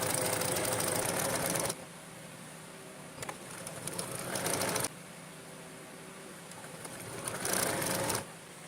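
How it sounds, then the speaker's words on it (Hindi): A sewing machine runs in steady bursts while stitching a namaz chadar, a prayer garment, with a dense mechanical whir that pauses briefly between seams and then starts up again. No one speaks. "इसको ऊपर की तरफ सिलाई करके आएंगे"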